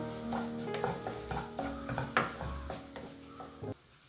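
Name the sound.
stirring fenugreek leaves into spinach mushroom curry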